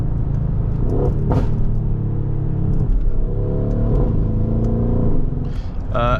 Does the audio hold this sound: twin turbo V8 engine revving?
yes